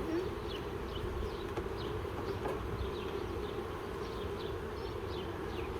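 Honey bees buzz steadily around an open hive during an inspection, a dense continuous hum with individual bees zipping past close by, low in level and without speech.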